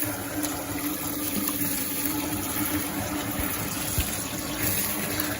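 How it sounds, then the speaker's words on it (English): Water poured from a tap into a bucket of cleaned, cut chitterlings, a steady close rushing splash that runs continuously throughout with a faint hum underneath. "And I'm pouring this water here."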